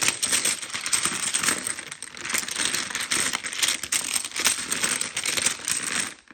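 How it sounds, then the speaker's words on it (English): Coins and small items get shaken and shuffled in a container for a money-saving challenge, a continuous close jangling rattle that swells and eases in waves for several seconds, with no talking. "I'm going to give it just a quick little shuffle here."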